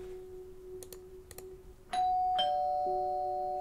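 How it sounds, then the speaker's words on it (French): A doorbell chimes at night, a loud two-tone electronic ding-dong whose sustained tones ring on and slowly fade, preceded by a few faint knocks in a quiet room. "ma sonnette ne fait pas du tout ce bruit-là d'habitude"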